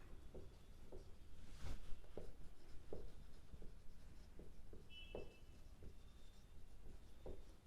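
Pen writing out a math solution on paper: faint, steady scratching strokes in short bursts, quiet and close, with no voices over it.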